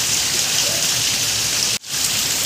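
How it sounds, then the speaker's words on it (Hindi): Heavy rain pours steadily in a dense hiss, with a brief dropout near the end before the downpour continues. "काफी तेज बारिश हो रही है"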